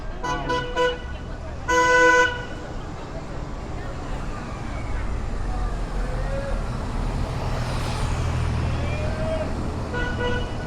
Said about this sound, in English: that bus is in a hurry, and he's like running people over in the crosswalk